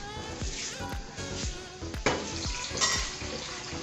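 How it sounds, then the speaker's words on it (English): Water poured into a pot for cooking rice, a steady splashing and gurgling stream close by with a few brief clunks along the way, no one talking. "I will be adding water."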